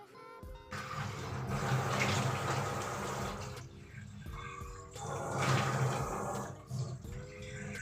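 Water runs in bursts from a bathroom tap for washing the face, two long flowing stretches split by short pauses, close by and fairly loud, with small clatters between.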